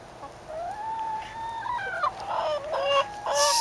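Chickens sunbathing in South Florida, giving a series of drawn-out clucks and tonal calls close by, rising and falling over a few seconds, with a sharper burst at the end.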